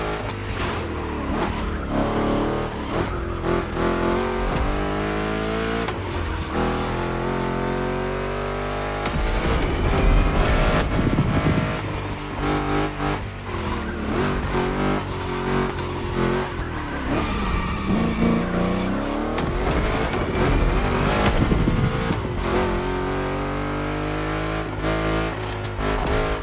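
Two Chevrolet big-block race cars rev hard in a gymkhana grid race in The Crew Motorfest, engines rising and falling through repeated gear shifts over tire squeals and skids, loud and continuous.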